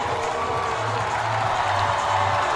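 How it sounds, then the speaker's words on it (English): A large crowd at Typhoons Arena applauds and cheers steadily during a memorial game, a dense wash of clapping and shouting that fills the space without a break. "So rapturous applause here at Typhoons Arena."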